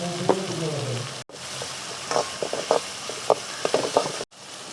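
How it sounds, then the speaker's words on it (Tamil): Onions with a little salt sautéing in a pan for a crab masala, a soft steady sizzle broken by scraping, clicking stirs and two brief silent gaps, with no voices. "ஒரு லேசாக உப்பு போட்டு வெங்காயத்தை கொஞ்சம் நல்லா வதக்கி விடுங்க"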